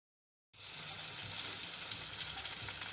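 Masala-coated fish pieces fry in hot oil, a steady close hiss and sizzle starting abruptly after a brief silence and continuing evenly with small pops.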